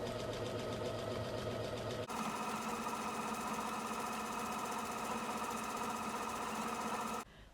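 Sewing machine stitching fabric for a sewing project, a steady, loud motorized whir with rapid needle chatter running continuously, briefly pausing then resuming before stopping at the end.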